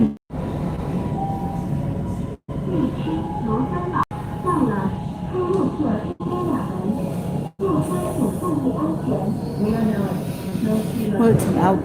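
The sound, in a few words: light railway train ride, outdoor train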